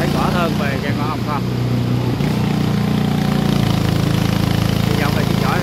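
Close, loud drone of a long-tail boat engine, holding a steady hum with a slight shift in pitch partway through, while people talk over it.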